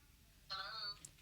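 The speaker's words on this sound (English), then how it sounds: "so we're dialing the number" A telephone sounds a single short electronic tone while a number is dialed, brief and fairly clear against faint background hiss.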